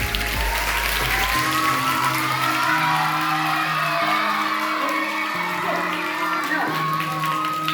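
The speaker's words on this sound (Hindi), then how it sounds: "तो उनके लिए जोरदार फिर से तालियां बजाएं।" An award ceremony audience applauds loudly and steadily, dense clapping with a few whoops and crowd noise, while music plays underneath throughout.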